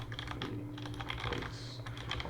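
Keys clatter quickly on a computer keyboard as a file name is typed, a steady run of light clicks over a low background hum.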